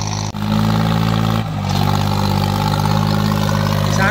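A New Holland 3630 Super Plus 50 hp tractor engine runs during a field demonstration, a loud, steady diesel drone with two brief dips before settling back to a constant heavy hum.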